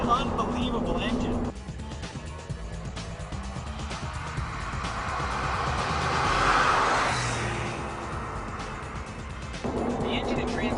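Porsche 911 996 with a 3.4 liter flat-six engine on a test drive in Texas, a steady cabin-level engine drone that swells gradually toward the middle and then eases off, with some speech over it.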